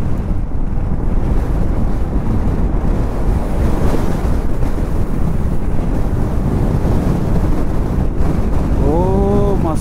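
Strong wind blows outdoors in Ladakh, roaring continuously and buffeting the microphone with loud, rumbling gusts throughout.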